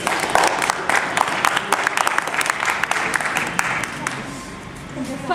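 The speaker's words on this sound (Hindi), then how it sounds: "फालतू में ऐसे ही ताली बजानी है।" An audience claps together at an evening gathering of a winter camp, a steady patter of many hands that fades slightly toward the end, with some voices mixed in beneath.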